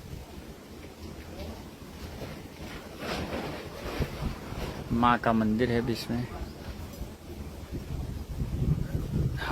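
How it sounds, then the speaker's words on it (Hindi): Strong wind blows outdoors in a steady, rough rush, heard under someone talking throughout. "हवाएं तेज चल रही है अभी।"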